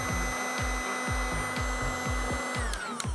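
Licetec V-Comb anti-lice machine running its vacuum, a steady motor whir with a rhythmic scraping pulse repeating about twice a second, loud and close, with no talk over it.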